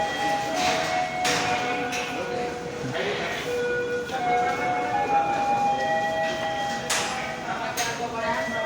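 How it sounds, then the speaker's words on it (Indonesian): Standard station bell ringing at a railway station on the Malabar train route between Bandung and Pasar Senen, a sustained tonal ringing heard at moderate distance amid train and platform ambience, with no talk. "Nah ini bunyi bel stasiun standar nih."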